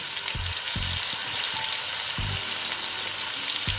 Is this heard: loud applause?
no